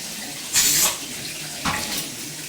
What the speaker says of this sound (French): Il suffit de faire couler de l'eau froide.